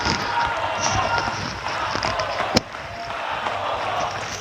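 Applause and crowd noise from the audience at an Indonesian presidential inauguration speech, a dense, steady wash of clapping and cheering held at a constant level, broken by one sharp bang partway through.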